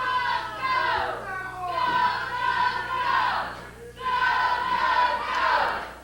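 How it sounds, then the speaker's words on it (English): Crowd at a professional wrestling TV taping in the Ohio Valley roars and chants in repeated swelling waves, with high excited voices rising and falling in a loose rhythm. "you hear the crowd ready here for a great day of professional wrestling"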